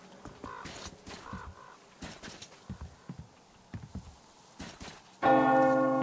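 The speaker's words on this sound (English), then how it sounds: "If you ring that bell one more time, I'm gonna shoot you, lady." A church bell in the video game Metro Exodus rings out loud and sustained at the end, after a stretch of scattered footsteps and clopping sounds.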